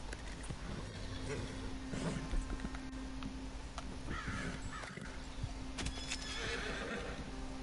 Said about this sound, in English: I'm actually gonna feed the horse now